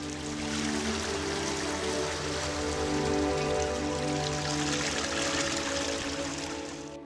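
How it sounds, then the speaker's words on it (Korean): Surf crashing against jagged, holed coastal rocks on the Goseong coast in Gangwon-do, with strong sea wind, forms a dense, continuous, loud roar and wash of water that never lets up, with no talking. "끊임없이 달려드는 파도와 거센 바닷바람"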